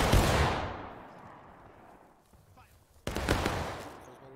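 A company of Civil War reenactors fires a musket volley on command at a training event: a loud, broad crack opens the clip and decays into rolling echo, then a second ragged volley bursts out near the end, with voices in the background.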